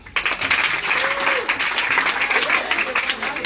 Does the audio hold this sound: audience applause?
yes